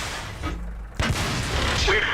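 A tank cannon in World of Tanks fires a single heavy boom about midway, followed by rumbling battle noise and faint mechanical clanks.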